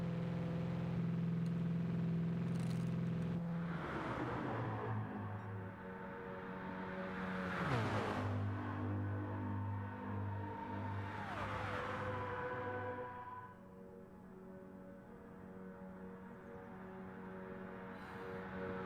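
Two Porsches and a Nissan racing nose to tail on the Le Sarthe circuit without chicanes in a racing video game, with loud continuous engine drones rising and falling in pitch as the cars pass and shift gears.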